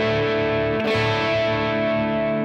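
Electric guitar strums one chord on only the bottom four strings in an alternate tuning, run through distortion and chorus effects, a thick sustained wash that rings steadily for a couple of seconds, up close with no voice.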